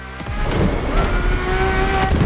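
A Ferrari F50 with its normally aspirated, Formula One-derived V12 roars in The Crew Motorfest. The engine note is loud and sustained, with a tonal whine that holds steady and climbs slightly over two seconds.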